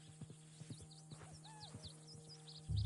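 Horse hooves clip-clop in a short, uneven patter while a horse gives a brief whinny in a video game, fairly faint against background birdsong and a low steady hum, ending in a louder rumble.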